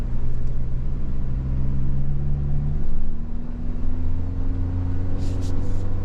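A 2024 Toyota Land Cruiser crawls off-road at about four miles an hour over unpaved ground, a steady low engine rumble with a slowly climbing tone, close and continuous with no talk.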